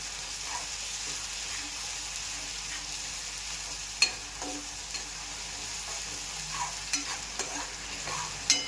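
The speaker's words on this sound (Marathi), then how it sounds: "त्यामध्ये आपण टोमॅटो प्युरी टाकून घ्यायची आहे. आणि ती परतून घेऊन" Tomato puree for a vegetable pulao fries quietly in a pan: a soft, steady sizzle with a few sharp clicks and scrapes of stirring.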